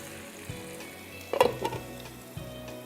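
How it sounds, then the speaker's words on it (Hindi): Chicken pieces fry in a pan with a steady low sizzle, interrupted by a brief louder clatter and stir around the middle, close and quiet, with no talking. "एक साइड पे आपने फ्राई किया, दूसरी साइड पे चिकन को टर्न किया"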